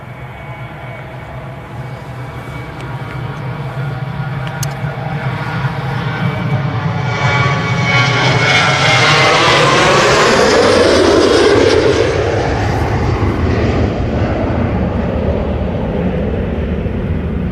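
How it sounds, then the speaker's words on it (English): An Airbus A380 jet airliner takes off at Manchester Airport, its engines building into a loud, sustained roar that peaks mid-clip, with a sweeping, shifting whine as it passes, then eases slightly while staying strong. "I think we all enjoyed the A380 departure"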